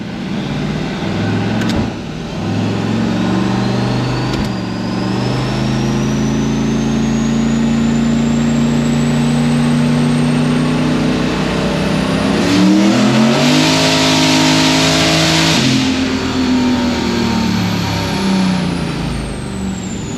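A turbocharged car engine under boost on a dynamometer, droning steadily and loud, then climbing in a rising rev before easing back, with no talk over it.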